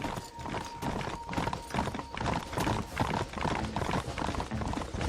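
Galloping horse hooves in the Western video game Red Dead Redemption, a fast continuous clip-clop rhythm close up and fairly loud, with a steady background tone underneath.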